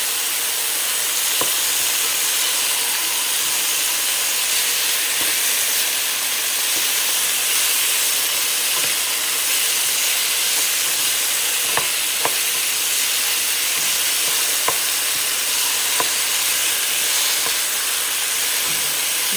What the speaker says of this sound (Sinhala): දැන් අපි බලමු මේක හොඳට දැන් මේ තෙලෙන් හොඳට බැදෙනවා.